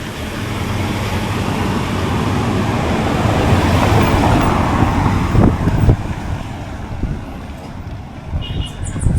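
Street traffic in a town in Grenada, mostly Korean cars and Japanese Hondas, passes as a steady broadband rumble with wind buffeting the microphone, a few louder vehicle swells near the middle and end.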